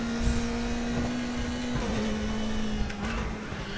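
A BMW race car in the RaceRoom racing game drones at a steady engine pitch. The pitch drops abruptly once as the car changes gear, and then the engine carries on at a lower, even hum.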